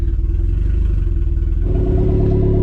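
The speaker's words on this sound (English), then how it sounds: "from above the car and in the engine bay, it actually sounds pretty good" A car idles close up through a custom 2.5-inch straight pipe exhaust, a loud, steady low-pitched drone with a slight rise in tone partway through.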